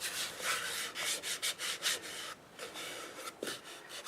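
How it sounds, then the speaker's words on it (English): Sandpaper rubs against freshly cut English walnut spinning on a wood lathe, a steady raspy hiss pulsing in quick strokes with a few brief pauses between passes. "I've actually got them dry just by sanding on them like this."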